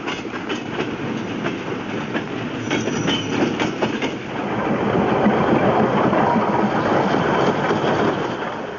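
A steam train runs over rails with rhythmic clickety-clack of wheels, the rumble growing louder and heavier partway through.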